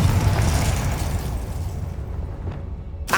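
Confringo blasting curse explosion from the Hogwarts Legacy video game: a loud, sustained booming blast that rumbles and slowly fades over a few seconds, with a sharp new burst right at the end.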